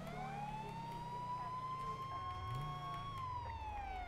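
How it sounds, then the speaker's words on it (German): A police siren from a GTA RP game wails steadily in a long rising and falling tone over engine rumble, moderately distant and fairly quiet. "Mach mal die Sirene aus"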